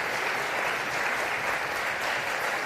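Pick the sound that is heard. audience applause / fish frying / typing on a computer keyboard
audience applause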